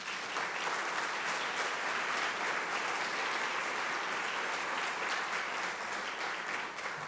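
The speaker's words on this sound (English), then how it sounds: "I think they deserve a big round of applause" A university campus audience gives a cheer and dance squad a loud, dense round of applause that holds steady and unbroken throughout, with no voices above it.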